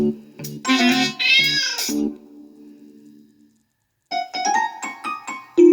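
A cat meows in a series of close, clear, drawn-out cries, then falls silent for a moment before several shorter meows follow in quick succession.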